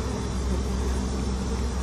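Honeybees sampled for a varroa mite count make a dense, continuous buzzing drone, close and steady throughout, with no voices.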